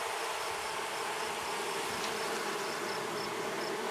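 Honey bees buzz steadily around an open hive while a beekeeper checks the frames, a dense continuous drone with a few brief higher whines passing close.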